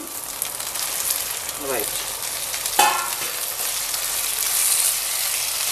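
Tomato pieces frying with onions and ginger garlic paste for a cauliflower tomato curry, a steady close sizzle with brief scraping stir strokes around the pan and a short spoken word near the start.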